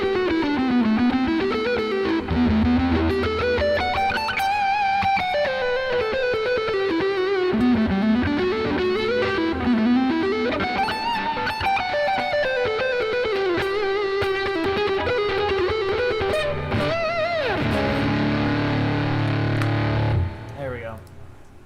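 An electric guitar played through a fuzz effect wails in a thick, saturated tone, bending, sliding melodic lines with sustained notes, ending in a heavy low chord before cutting off.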